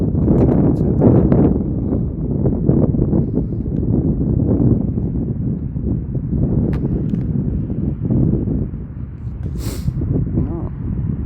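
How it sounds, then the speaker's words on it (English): Strong night wind buffets the microphone outdoors during a DJI Mini 4K drone flight, giving loud low rumbling gusts that rise and fall throughout. "it is getting proper windy"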